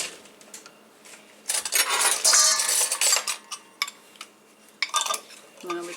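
A spoon scraping and clinking against a bowl while egg is emptied out for a chocolate pie, with bursts of scraping and light clinks at close range and a few quiet voices.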